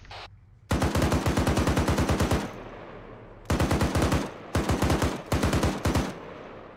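Automatic rifle fire in Arma 3 comes as several close, loud bursts of rapid rounds, one long stream followed by shorter volleys separated by brief pauses.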